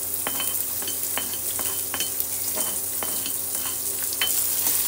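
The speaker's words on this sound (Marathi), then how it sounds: "तर छान असं फ्राय करून घ्यायचं आहे आपल्याला याला." Coarsely chopped onion fries in a pan for palak paneer, giving a continuous hissing sizzle up close with regular scraping taps of a spatula stirring through it.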